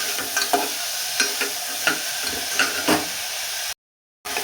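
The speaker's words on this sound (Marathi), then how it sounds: "आता कांदा आहे आपल्याला छान ब्राऊन कलर होईपर्यंत भाजून घ्यायचा" Chopped onion frying with salt in a hot pan, browning, with a steady broadband sizzle punctuated by about half a dozen sharp spatula scrapes and clacks at irregular intervals, then a brief cut to silence near the end.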